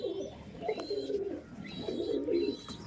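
Pigeons at a Kolkata pigeon market give soft, low, throaty coos in two drawn-out bursts, close by, with faint chirps in the background and no talking.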